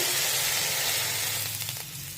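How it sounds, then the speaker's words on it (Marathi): Curd dhapata flatbread sizzles on an oiled hot tawa over a medium flame, a steady, close hiss of frying that holds evenly throughout, with no voices. "आता याला आपण तव्यावर भाजून घेऊया"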